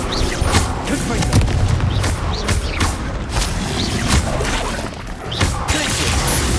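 Repeated Confringo spell blasts and booming impacts from combat in Hogwarts Legacy on PS5, loud crackling explosions and thuds arriving every second or so in a dense, busy battle mix.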